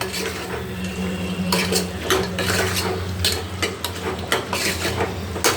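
Mutton curry with salt and chilli powder stirred in a metal pot, a spoon scraping and clanking in irregular close strokes over a soft sizzle.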